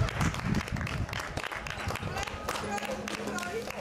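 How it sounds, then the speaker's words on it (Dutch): Applause for a rider being honored at a 2011 cycling event in Beringen, Belgium, a dense crowd clapping steadily throughout, mixed with a busy public-address voice and background commotion. "En dan is een welverdiend applaus erbij."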